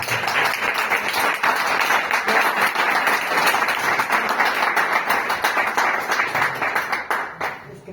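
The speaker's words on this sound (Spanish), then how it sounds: "un fuerte aplauso a la autora" Audience applause at a book presentation, sustained dense clapping from a crowd filling the room at steady loudness, then tapering off near the end.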